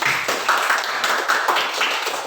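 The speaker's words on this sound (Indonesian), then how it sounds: "Tepuk tangan buat Obi." Children clap hands in a classroom during a physical education lesson, with a burst of rhythmic, fairly loud claps that repeat in quick, uneven bunches, close to the listener and with little talk.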